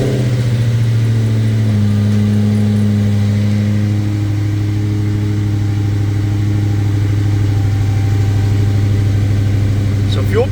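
A 2003 Ford SVT Cobra V8, with a fault, runs loud and close in a shop, its engine note shifting early on and then holding a steady, even idle rumble throughout.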